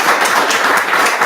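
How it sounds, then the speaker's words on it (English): Audience applause at a multifamily real estate market talk, a dense burst of many hands clapping together, loud and steady throughout the short stretch with no voices over it. "All right, well, round of applause."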